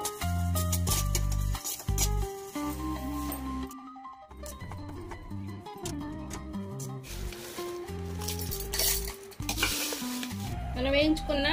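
Coriander seeds, cumin, white sesame and dried red chillies dry roasting in a pan over a low flame, with steady stirring scrapes and soft crackle running the whole time beneath loud, continuous background music.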